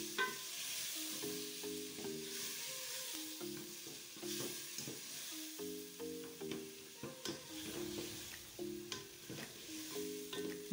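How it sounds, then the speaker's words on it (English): Tomatoes and meat for Ghanaian jollof rice sizzle in a pot while being stirred, with a continuous frying hiss and repeated scraping strokes of the spoon, close and unhurried, with no voices. "Then add our tomatoes and keep stirring until they are well cooked and well incorporated into the meat."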